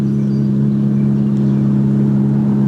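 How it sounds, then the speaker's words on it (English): A Ferrari pulls in nearby with a steady, close, low engine drone that hums continuously without any change in pitch. "Rather nice little Ferrari pulled in beside me"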